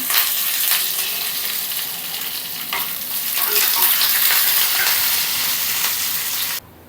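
Green chillies and curry leaves fry in a pan, making a loud continuous sizzle with stirring scrapes that fades slightly midway, rises again, then cuts off abruptly near the end.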